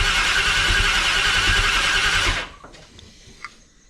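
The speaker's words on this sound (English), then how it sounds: "Give her another crank." A Holden HQ turbo V8 cranks loudly on the starter for a couple of seconds without firing, then stops, leaving faint clicks and shuffling noises in a shed.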